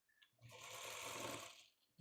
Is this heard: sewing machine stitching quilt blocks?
yes